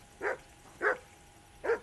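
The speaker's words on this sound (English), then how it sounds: "Get that mutt of yours to stop barking, will Henry!" Three evenly spaced single dog barks at a moderate distance, each short and sharp with quiet gaps between, from the medieval video game Kingdom Come: Deliverance II.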